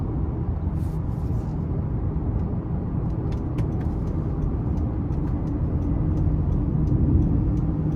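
A 2023 Honda Pilot Touring with a 3.5 V6 and AWD accelerating in sport mode, heard from inside as a steady broadband engine and road roar with faint ticking on top, no talk.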